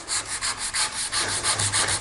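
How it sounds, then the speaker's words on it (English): Wood with filler is sanded by hand using 150 grit paper in steady back-and-forth strokes, about a dozen rhythmic rasping passes, close and fairly loud with no talking. "by sanding the wood and not out on the filler"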